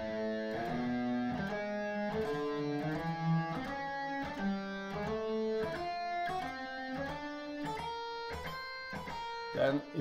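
An electric guitar is picked through a G Aeolian practice pattern in a long-short dotted rhythm, with a steady stream of clear, distinct notes that step through the scale at moderate volume and no voice over them.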